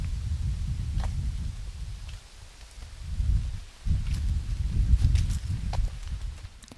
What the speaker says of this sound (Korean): 바람소리가 참 매력적이죠